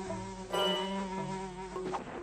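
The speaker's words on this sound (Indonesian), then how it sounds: "Lalat-lalat menyebalkan itu menghalangi." Cartoon flies buzz around a zebra on a grassy plain, a continuous close whining drone that swells and wavers as they hover, with no talking.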